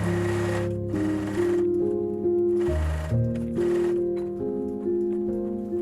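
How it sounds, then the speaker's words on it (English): A sewing machine runs steadily while stitching sewable boning onto corset seams, its motor hum rising and falling in pitch through a few short surges and pauses, close and alone with no talk. "I sewed on the sewable boning to the seams."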